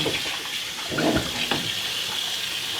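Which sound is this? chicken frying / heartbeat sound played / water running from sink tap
water running from sink tap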